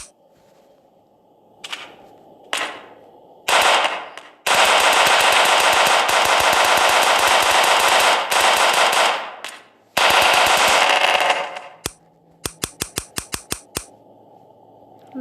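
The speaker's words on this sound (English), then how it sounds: "This is auto rifle." An auto rifle fires in the video game Melon Playground: long sustained bursts of rapid synthetic gunfire, broken by short pauses and ending in a string of separate single shots.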